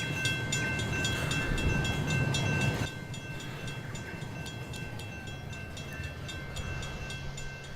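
Model train running on a track in the Rolling Line video game, a steady rolling rumble with faint rhythmic clicks, louder at first then dropping to a quieter continuous run.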